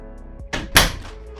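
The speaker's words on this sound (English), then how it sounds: "if I shut this door" A cargo trailer door swings and shuts in one loud, close slam after a softer rattling movement, then a brief settling rumble inside the trailer.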